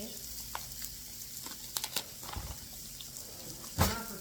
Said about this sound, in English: Got the steak on the grill.